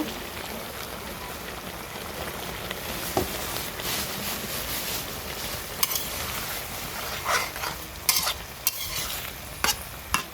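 Broth poured into a pan of fish curry with ripe olives, a steady bubbling sizzle with occasional sharp clinks and stirring scrapes, close up, with no talking.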